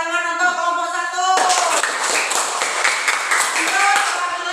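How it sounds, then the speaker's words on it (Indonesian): A classroom group gets a round of applause: dense clapping from many hands starts suddenly after a spoken sentence and continues evenly and close up for about three seconds. "Kasih tepuk tangan untuk kelompok 1."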